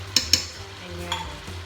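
Chicken kaldereta with Reno liver spread is stirred in a pan, two quick metallic spoon clinks followed by a lighter scrape over a low simmering sizzle, close and brief.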